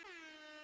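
Short blast of an air horn sound effect, a single bright blaring tone played during a game stream broadcast.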